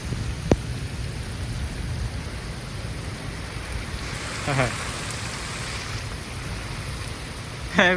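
Heavy rain pours down on a farm during a thunderstorm. It makes a steady, dense roar throughout, with a low rumble of thunder underneath and a couple of brief sharper sounds near the middle and end.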